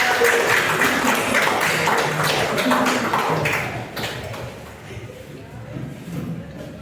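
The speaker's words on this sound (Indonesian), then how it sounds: "Tepuk tangan buat kelompok." Classroom applause for a student group that has just finished presenting, a dense wash of clapping that fades after a few seconds, with voices murmuring underneath.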